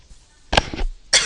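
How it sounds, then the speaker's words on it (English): Someone narrating a chemistry density calculation coughs twice in quick succession, close and sharp, with a short pause and then a third burst, no talk during. "sorry I coughed"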